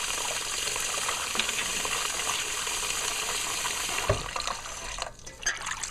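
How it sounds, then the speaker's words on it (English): Beef stew meat rinsed in a bowl with water and a splash of vinegar: a steady stream of running, gushing water fills the whole stretch, with a brief splash near the end and no talk. "And I'm going to rinse it out a little."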